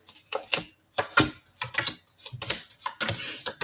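Tarot cards being shuffled during a reading, heard as a series of close, crisp papery riffles and flicks in short bursts separated by brief pauses, with no talking.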